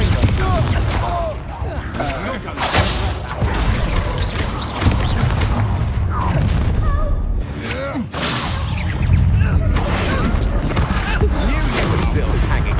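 Confringo blasting spells burst repeatedly during spell combat in Hogwarts Legacy, giving loud whooshing cracks and booms over continuous game music and effects, with someone talking throughout.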